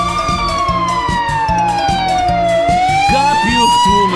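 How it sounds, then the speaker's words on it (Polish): A loud, nearby ambulance siren wails steadily, its tone slowly sweeping down and back up over a repeating low two-tone pattern. "Jedzie karetka, jedzie, migają koguty."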